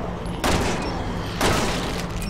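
Two loud gunshot bursts from the video game Resident Evil 6, one near the half-second mark and another about a second later, each a sharp broadband blast over a steady game soundscape.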